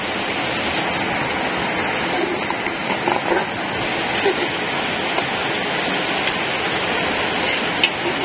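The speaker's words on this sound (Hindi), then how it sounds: "बाहर बहुत जोर वर्षा होची" Heavy rain falls outside in a dense, constant hiss with scattered drips and splashes, loud and unbroken throughout, with no clear talking.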